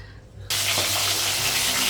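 Fish dropped into hot oil in a wok sets off a loud, steady sizzle that bursts in abruptly after a brief quiet moment and continues without a break.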